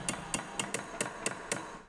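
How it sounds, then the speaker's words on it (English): A rusty hand plane cutting iron is hammered flat on a flat surface: seven evenly spaced metallic strikes, sharp and fairly close, in a steady rhythm with quiet gaps between. "putting it onto a flat surface and hammering it gave me a much better and more flat result"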